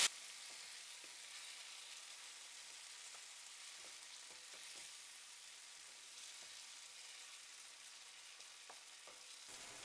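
A tadka of cumin, red chilli, cumin powder and coriander powder sizzles in hot oil for masoor dal, a steady close frying hiss with scattered small crackles and pops, and no talking.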